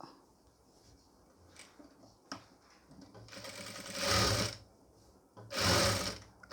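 A sewing machine stitches along the top edge of a folded piece on a pleated nightie, running in two louder bursts with quieter handling noise between them.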